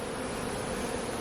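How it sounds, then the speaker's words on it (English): Honeybees swarm around an opened hive during a honey harvest, making a dense, steady buzzing hum that fills the whole moment without a break. "So these bees are hatching out, as you can see."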